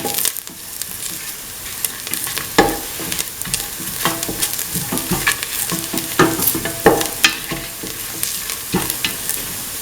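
Scrambled egg and bell pepper sauté in a hot pan with a loud, crackling sizzle, broken by repeated sharp scrapes and taps of a spatula stirring the food.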